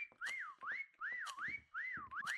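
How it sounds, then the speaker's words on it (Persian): A person whistles a repeated rising-and-falling two-tone call, four clear phrases in steady rhythm, close and loud with no talk, during a hide-and-seek game. "من 4 تا سوت میزنم."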